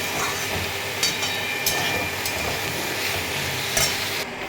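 Vegetable chorchori being stirred in a pan as it finishes cooking, a continuous close sizzle with scraping spoon strokes and a few sharper knocks against the pan, no voices.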